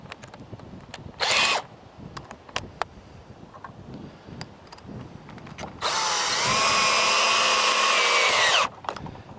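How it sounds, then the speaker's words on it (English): A cordless drill fitted with a socket drive snugs latch bolts onto a farm gate post, with a brief whir early on, then a longer steady whine of about three seconds amid scattered clicks and handling noise. "If you have a socket drive for your drill, it's much easier and faster than a ratchet."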